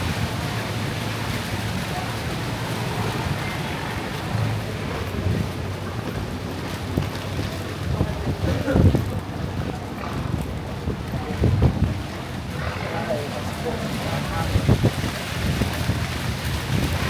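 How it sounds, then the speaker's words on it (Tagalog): Strong wind on the way to Boracay island buffets the microphone in a steady roar, with occasional heavier gusts and rumbling thumps throughout. "So ang lakas ng hangin ngayon."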